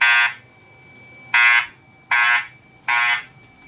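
Fire alarm from a new building alarm system under test, sounding four loud, evenly spaced buzzing horn blasts with short silences between, close and clear with no talking.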